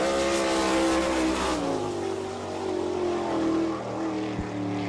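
Sprint car racing engines at Attica speedway roar steadily at a distance, with a deeper engine tone dropping in partway through.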